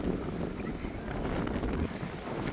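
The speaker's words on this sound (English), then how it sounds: "It's getting a bit windy now." Steady wind buffets the microphone in a continuous low roar, with no clear other sounds, at an open-air festival in Middlesbrough.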